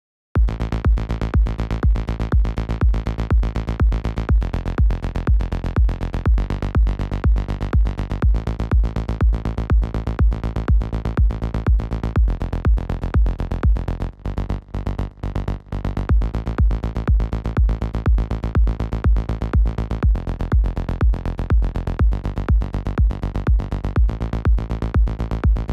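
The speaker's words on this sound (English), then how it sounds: "Together with a kick that now sounds like this." A sidechained kick drum in a progressive melodic house production, thumping in a steady four-on-the-floor pulse with ducked sustained tones between hits, loud and continuous, with a brief break midway.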